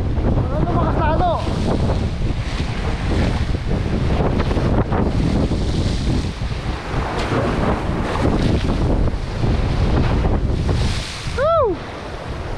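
Strong wind roars continuously across an open-sea boat ride, buffeting the microphone with heavy low rumble and wash of waves, loud and steady throughout, with brief voices and a short whistle-like call near the end.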